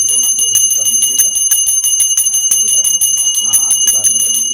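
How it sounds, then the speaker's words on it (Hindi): A bell rung steadily through a home Hindu puja for the Vat Savitri fast, its repeated bright strikes continuous and close, with quiet talk in the background. "अब घंटी बजा दीजिए"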